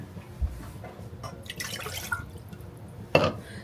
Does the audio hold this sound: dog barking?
no